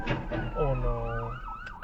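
A police car siren wails nearby on a road, its rising and falling tone sweeping clearly through a short burst over low traffic rumble.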